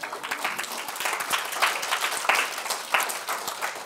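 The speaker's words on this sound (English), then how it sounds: "That's an applause line, come on, a little love." Audience applause at an Andrew Yang presidential campaign talk, a steady wash of many hands clapping with a few louder bursts, moderately loud and sustained with no speech over it.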